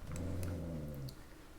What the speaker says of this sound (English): My dog was not pleased with that.